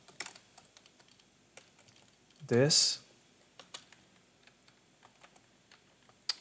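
Computer keyboard typing during coding work, sparse individual key clicks spread across the span with one short burst of speech in the middle.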